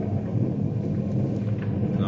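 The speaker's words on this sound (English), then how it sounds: "That storm's beginning to kick up an awful fuss!" A thunderstorm rumbles as a sound effect in an old-time radio drama, a steady, heavy low roar that churns without a break.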